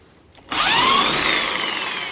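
Power drill boring into aged teak for a beach house build in the Philippines, kicking in suddenly after a moment of quiet and then running loud and steady with a whining bit.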